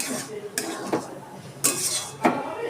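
A pan of cooked semolina is handled and lifted off the stove, with several sharp metallic clinks and scrapes of utensils against the pan spaced across a quiet kitchen background.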